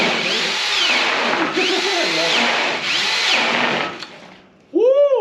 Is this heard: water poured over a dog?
no